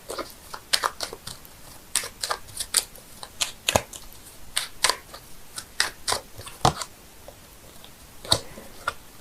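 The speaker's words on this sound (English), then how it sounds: "I'm shuffling the cards here, seeing if I can get a clarifying card for the 4 of Swords." Tarot cards shuffled by hand during a reading: quick, crisp riffling and slapping of card stock in irregular bursts, close and fairly loud, with no talk.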